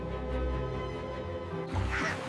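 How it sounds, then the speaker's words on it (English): A duck quacks loudly and steadily, with a brief shift partway through, close and alone with no talking. "Ducks love swimming in ponds and saying quack quack."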